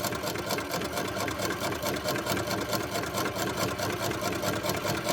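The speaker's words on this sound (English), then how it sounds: "And you want to sew 1/4 inch all the way down." Older sewing machine stitching a quarter-inch seam in a quilting project, a steady, fast, even mechanical whirring and ticking that runs unbroken and moderately close, with no talk over it.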